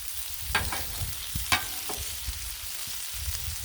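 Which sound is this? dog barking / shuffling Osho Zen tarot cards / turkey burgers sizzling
turkey burgers sizzling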